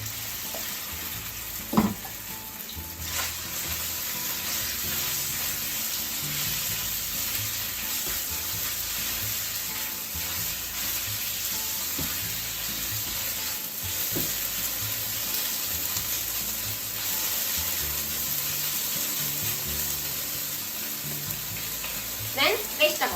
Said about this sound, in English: Put the chicken and cook for 2 to 3 minutes.